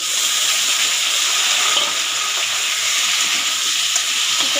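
Chicken pieces dropped onto fried onions in a pan give off a loud, steady, close hissing sizzle that stays even throughout, with no voices.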